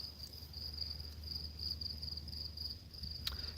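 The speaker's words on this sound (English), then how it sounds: "crickets are back. I love those guys." Crickets chirp outdoors in New York's Hudson Valley, a faint, steady high trill pulsing evenly in the distance over quiet background hum.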